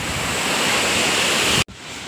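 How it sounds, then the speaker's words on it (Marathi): A waterfall pours down a fort hillside during heavy monsoon rain, making a loud, steady, close rushing roar that cuts out for an instant near the end. "आपल्या मगाशी आपण खाली वॉटर धबधबा बघितला तो हाच धबधबा."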